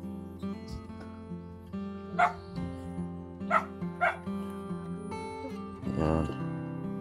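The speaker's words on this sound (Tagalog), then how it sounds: "May mga aso." Several dogs bark in scattered bursts, a few sharp barks spaced apart and a louder cluster near the end, over a steady humming background.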